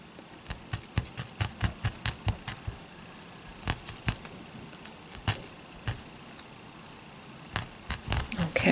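Cheap Harbor Freight scissors snip off excess felted yarn in a fast run of crisp, close cuts. A pause follows, then a second burst of quick snips, with no talking.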